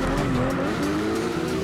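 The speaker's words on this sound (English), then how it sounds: "It sounds more like an actual BMW engine." A BMW E46 engine in the CarX Drift Racing video game holds a sustained, droning rev while the tires squeal through a slide, loud and continuous with no voices.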